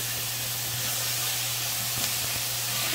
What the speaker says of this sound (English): we'll cook our tortillas just so they're browned a little bit